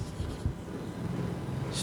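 Marker or chalk writing on a board while an exercise is worked through, soft faint scratchy strokes over quiet room noise, with a brief brighter scrape at the very end.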